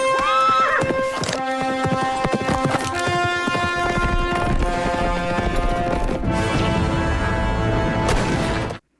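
Horses gallop with clip-clop hooves and neigh in a movie gunfight scene, a loud dense mix of hoofbeats, whinnies and scattered crashes with a musical score underneath, ending abruptly.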